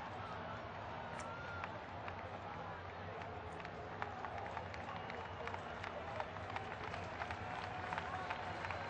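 A baseball crowd at Chicago's Wrigley Field gives Derek Lee a round of applause, a broad, even wash of many hands clapping that stays steady and fairly distant throughout, with a commentator talking over it.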